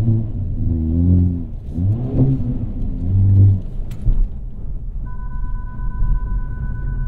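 A 2022 Hyundai Kona N engine revs repeatedly in strained, rising bursts while stuck in snow, rumbling and labouring as if struggling for grip, then settles to a lower idle with a steady tone.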